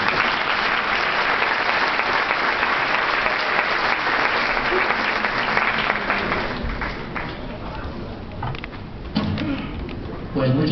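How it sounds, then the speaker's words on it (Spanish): Audience applause welcoming a judge at a legal lecture, a dense sustained clapping that fills the room for about six seconds before thinning out and fading into scattered claps. "vamos a recibirlo con un fuerte aplauso."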